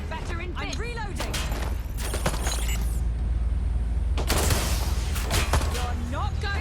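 Gunfire in the video game Watch Dogs Legion, dense bursts of shots and impacts under game music and shouted character dialogue, loud and continuous throughout.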